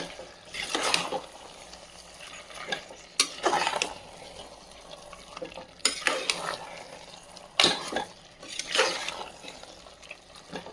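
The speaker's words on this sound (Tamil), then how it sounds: "நல்லா சிக்கனோட இந்த மசாலா மிங்கிள் ஆகட்டும். ஒரு 5 minutes நல்லா வதக்கி விடுங்க." Half a kilo of chicken is sautéed with masala for biryani, a low sizzle broken by several loud bursts of utensil scraping and stirring in the pan, close by and without talk.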